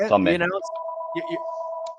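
A house phone rings with a steady electronic tone, sounding continuously after a man's brief speech at the start, clear and fairly close in an indoor room.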